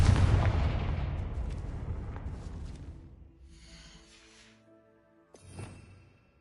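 A Confringo blasting spell goes off in a Harry Potter video game as a loud, booming explosion that slowly decays into a rumbling tail, followed by fainter magical shimmering and a smaller burst near the end.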